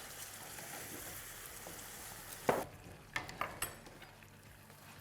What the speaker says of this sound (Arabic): انا هنا بعد ما تقلى البصل باش نزيد عليه مقدار 3 كعبات طماطم فرشكه